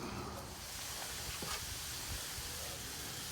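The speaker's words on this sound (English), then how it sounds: "Now these are beginning to saute down and soften" Onions sautéing in clarified butter ghee on a hot cast iron grill, a continuous soft sizzle and hiss with faint crackles, steady and close throughout.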